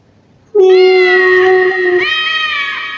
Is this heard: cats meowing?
yes